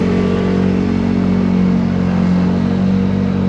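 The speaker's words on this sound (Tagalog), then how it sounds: "sobrang traffic" Heavy road traffic heard from a Honda Giorno 160cc scooter, a steady dense roar of engines with a low hum throughout, loud and continuous with no talk.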